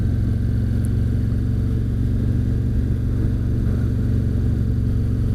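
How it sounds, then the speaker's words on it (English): A 2017 Harley Ultra Classic Limited motorcycle with a Milwaukee 8 engine rumbles steadily while riding, a loud continuous low engine drone with wind noise and no talking. "featuring the Milwaukee 8 engine."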